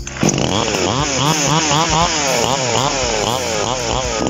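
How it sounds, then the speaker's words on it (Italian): An inexpensive Chinese-made chainsaw engine runs loudly up close after being restarted, its revving pitch rising and falling in a steady, rough cycle. "Come vedete la motosega si è avviata perfettamente"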